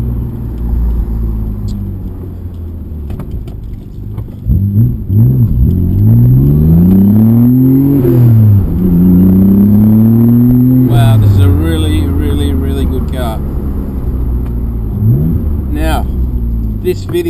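A Nissan R32 GT-R engine on a test drive, revving and accelerating through rising and falling pitch sweeps as the turbo spools, a loud, steady near rumble with gear changes, while someone talks over it.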